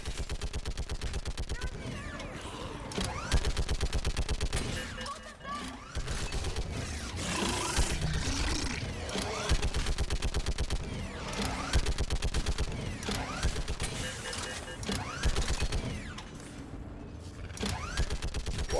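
A mounted gun in the video game Mass Effect 3 fires in long rapid bursts, loud and close, amid battle noise and booms, with voices talking over it at times.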